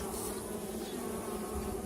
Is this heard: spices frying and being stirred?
no